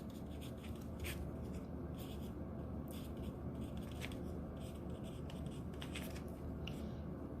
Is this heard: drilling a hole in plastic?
no